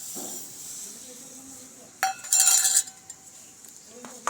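Moong dal, chana dal, masoor dal, whole moong and rice are mixed together in a dish, giving a grainy rattle and scrape with a few bright clinks from a utensil, close and fairly quiet.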